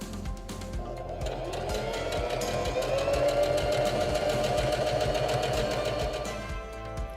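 Singer Denim HD6335M sewing machine stitching a seam on chambray, a rapid steady needle clatter with a rising mechanical whir in the middle, close and continuous with no talking.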